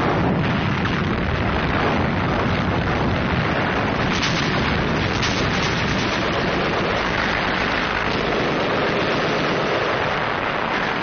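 A WWII Mediterranean battlefield under heavy Allied artillery fire: a dense, loud, unbroken roar of blasts and rumbling booms layered over one another, with no voices.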